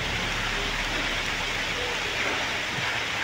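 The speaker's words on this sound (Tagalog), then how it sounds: "Umuulan na mga kaidol." Rain falls outdoors as a dense, steady hiss, loud and unbroken throughout.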